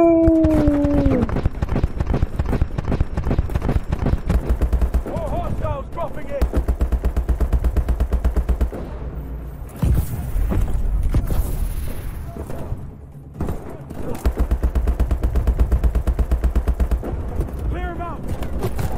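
Rapid automatic gunfire from the Call of Duty Advanced Warfare video game, dense rhythmic bursts running almost the whole time at steady loudness, with game sound effects and voices mixed in and a short lull in the middle.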